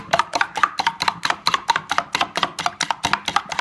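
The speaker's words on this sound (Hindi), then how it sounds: "ये भी हम इसमें फेंट देंगे अच्छी तरह" Sugar being whisked into a dried-date halwa mixture with quick, even strokes, about four per second, each a crisp scraping swish that repeats steadily and close by with no voices.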